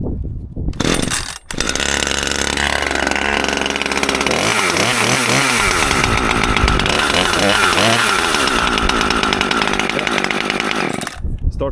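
A freshly fueled chainsaw, choke and chain brake on, is pulled to start and roars to life up close, then runs loudly with rising and falling revs for about ten seconds before cutting off.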